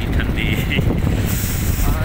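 Steady, loud wind rushes over the microphone while a scooter rides at about 20 speed on an open road in Jhang, Punjab, a constant buffeting roar filling the whole clip with no talk.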